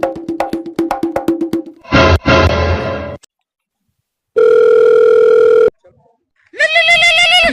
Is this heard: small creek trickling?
no